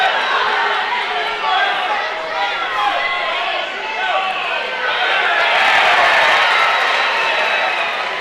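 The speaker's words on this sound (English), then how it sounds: "so Phillipsburg crowd seems to be cheering." A Phillipsburg crowd at a high school wrestling match cheers and shouts as a dense, loud roar that swells toward the end, while voices talk through it.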